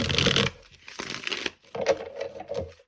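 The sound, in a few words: shuffling tarot cards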